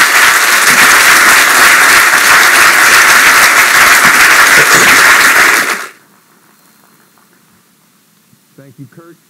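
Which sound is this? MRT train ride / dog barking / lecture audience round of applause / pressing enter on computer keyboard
lecture audience round of applause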